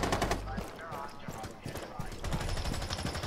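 Rainbow Six Siege gunfire: bursts of rapid shots open the clip and return near the end, with softer game noise between them and a voice talking over parts of it.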